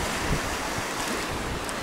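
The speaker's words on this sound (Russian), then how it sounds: "море даже с закатом меняется. Оно становится более шумным" Sea surf rolls at the shore around sunset, a broad continuous wash of breaking waves with some wind rumble, heard alone without voices.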